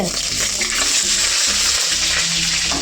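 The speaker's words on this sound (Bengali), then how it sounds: "মাছের ঝালটা একটু গরম করতে বসালাম" Fish curry reheats in a home kitchen pan, giving a steady close-up sizzle and bubbling with occasional stirring scrapes, continuous and fairly loud.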